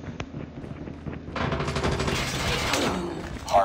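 Rapid bursts of automatic gunfire rattle continuously from a Call of Duty-style Hardpoint match, loud and dense, after a brief quieter lead-in.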